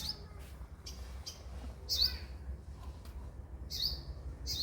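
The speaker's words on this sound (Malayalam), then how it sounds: "ഇതിൻ്റെ ഉള്ളിൽ ഒരു സ്പെഷ്യൽ ഒരു കിളിയുണ്ട് ആ സൗണ്ടാണ് നിങ്ങളിപ്പോൾ കേൾക്കുന്നത്" A small bird gives short, high chirps in scattered bursts, fairly close, against quiet low background hum.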